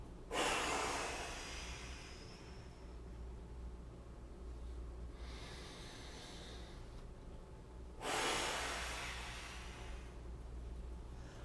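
Deep breaths taken during a bodyweight side-lying rehab exercise, a few long forceful breaths near the microphone with quiet pauses in between.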